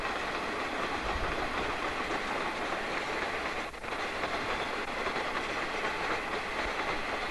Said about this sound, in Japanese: 次はまたまた EF81 牽引の上り貨物列車です